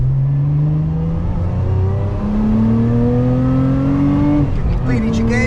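A production Lotus Emira sports car revs hard and accelerates, its engine note climbing steadily before a quick upshift from second to third drops the pitch and it pulls again, loud and close throughout.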